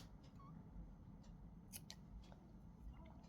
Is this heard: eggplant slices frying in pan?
no